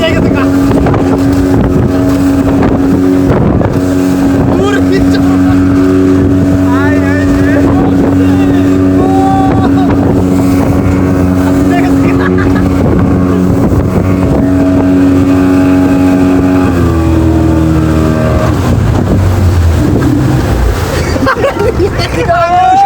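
A speedboat carrying passengers at Swapnapuri roars steadily at speed, its engine drone mixed with buffeting wind noise over the whole ride, with people talking over it.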